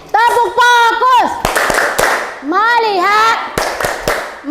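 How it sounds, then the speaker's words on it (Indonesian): A school class chants in unison and claps between phrases during a rhythmic focus routine, sharp group claps punctuating loud children's voices. "Tepuk fokus dulu, tepuk fokus."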